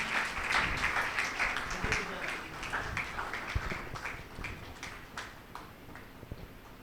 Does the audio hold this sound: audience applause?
yes